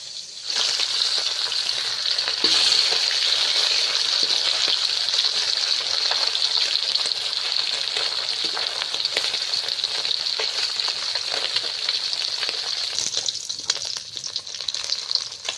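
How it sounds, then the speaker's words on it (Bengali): Steady, loud sizzling of fish frying in hot oil at a weekly village market in the Sundarbans, a continuous crackling hiss with occasional pops, no voices. "মাছগুলো ভাজা হয়ে গেছে এবার তুলে নিচ্ছি"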